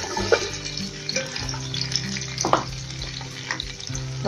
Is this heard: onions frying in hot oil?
yes